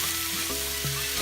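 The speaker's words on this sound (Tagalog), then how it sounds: "ilalagay naman natin yung ating hotdog. Tapos hahaluin lang natin siya hanggang sa maluto yung hotdog." Hotdog and meat for menudo sizzle and fry in a pan while being stirred, a steady close crackle with a brief scrape of the spoon partway through.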